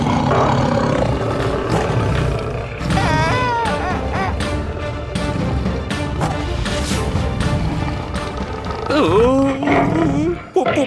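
A tiger's roar in a Tamil fairy-tale drama scene, with rising and falling growls over a loud, busy mix of music and frantic voices, strongest near the end of the stretch.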